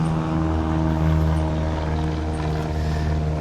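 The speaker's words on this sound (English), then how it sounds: "The airplane." An airplane flies overhead near a fort, its engine producing a loud, steady droning hum with no voices.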